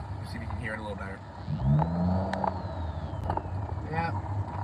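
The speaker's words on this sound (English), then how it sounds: "this is a Nissan Sentra that my roommate did a muffler delete on" A Nissan Sentra with a muffler delete revs up loudly and then settles, its raspy engine note swelling near the middle and lingering under background noise.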